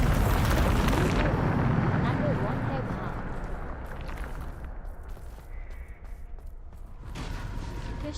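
A Bombarda spell explodes in the Hogwarts Legacy video game, a loud broadband blast that rumbles and slowly fades over several seconds, with a second burst near the end and a voice talking faintly underneath.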